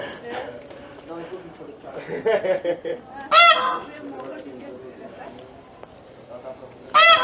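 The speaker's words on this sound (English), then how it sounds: "I have paid to go in, and I can hear peacocks." A peacock at Saint George Castle in Lisbon gives two loud, piercing calls at about 3.4 and 7 seconds, standing out over background chatter and talk from nearby visitors.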